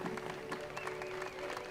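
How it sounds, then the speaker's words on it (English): Spectators at a canoe-kayak marathon world championship in Bascov, Romania applaud as junior K1 paddlers reach the finish, a short burst of moderate clapping over a steady music tone. "Appreciation from the crowd."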